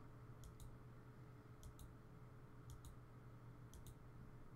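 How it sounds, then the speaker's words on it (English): Pairs of quick, faint mouse clicks recur at a steady pace, roughly one pair a second, while clicking through summon screens in the Valkyrie Connect mobile game, over a constant low background hum. "I click through."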